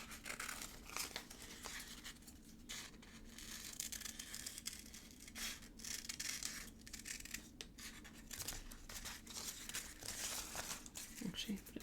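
Paper being cut out with scissors for a Hemlock & Oak journal planner, a steady run of crisp snips and crinkling paper handling close by, with someone talking over much of it.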